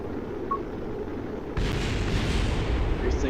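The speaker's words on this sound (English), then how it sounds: "Everything's exploding." Explosions in the Kerbal Space Program video game hit partway through as a sudden, loud, sustained rumbling roar that swells over a steady wind-like hiss of falling through the atmosphere.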